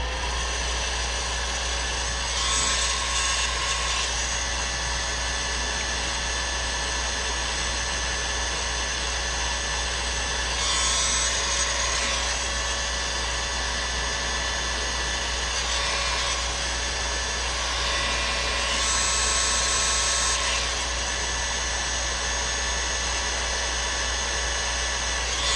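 A heat gun heats a plastic plumbing part on a leaking hot tub, giving a steady, loud, close whooshing blower roar with a constant hum and slight shifts in airflow, with no talk over it.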